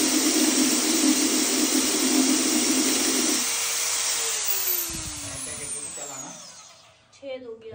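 A drill bores a hole through the base of a ceramic crockery bowl, a loud steady whine that holds for about three seconds, then drops in pitch and winds down to a stop.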